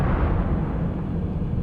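Blast from a smoke spell test in the 2007 video game Shadowrun, a loud, dense, roaring burst of broadband noise that fills the whole short moment without any speech.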